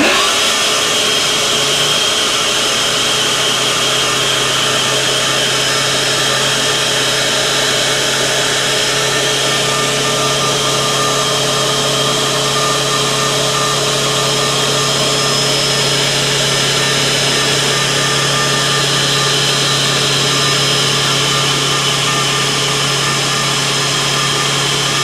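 A gold drywasher blower runs steadily, pushing air through diffusion plates under expanded metal, screen and nylon mesh, a loud continuous whine-and-rush drone with a steady low hum, close and unchanging throughout.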